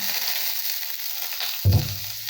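A tempering splutters steadily in hot oil, then chopped raw mango is dropped into the pan with a low thud and the frying swells louder for a moment before settling back into a sizzle.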